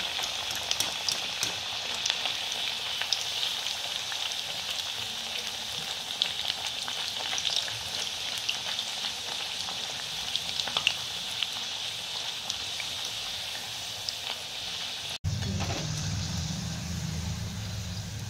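Methi puris deep-fry in hot oil with a dense, steady crackling sizzle that runs for many seconds, close and even, with a brief cut near the end.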